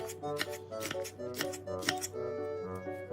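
Kitchen scissors snip chili peppers into short pieces, a quick series of crisp close cuts roughly every half second over a soft steady background tone.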